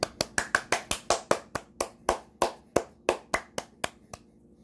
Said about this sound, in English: edit in some loud claps